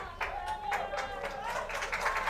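Spectators at a varsity girls' soccer game clap and cheer as a senior captain leaves the field, scattered claps from a modest crowd mixed with voices.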